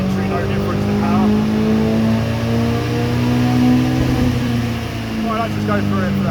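Astra H VXR with an EFR turbo conversion, engine droning loudly at a steady 3,000 RPM under load, with a sustained tone that dips briefly and returns, as someone talks over it.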